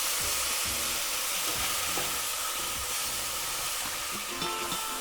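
Garlic and ginger puree sizzling and frying steadily in a pan for butter chicken, a continuous loud hiss with intermittent scraping stir clicks throughout.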